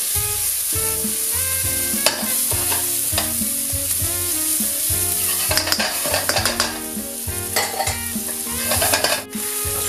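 Garlic and onion frying in a pan for crispy chicken, a bright continuous sizzle broken by repeated stirring and scraping bursts and a few utensil clinks, close and loud with no voices.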